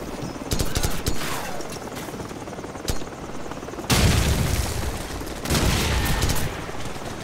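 Loud battle audio from the Call of Duty 4 video game: a heavy frag grenade explosion booms midway, set within sustained bursts of rifle gunfire and crackling fusillades, close and dense throughout.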